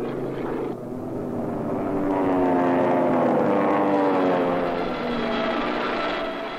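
Japanese bomber aircraft engines droning over Nanking, a steady propeller hum that swells in the middle and eases slightly toward the end, with no voices over it.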